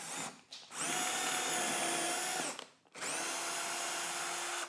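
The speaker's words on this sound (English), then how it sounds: "I'm going to use a 3/16" drill bit, which is pretty common. Drill my first hole." A power drill with a 3/16-inch bit bores a hole through a cabinet. It runs as a loud, close, high-pitched whine in two long bursts separated by a short pause, with no talking.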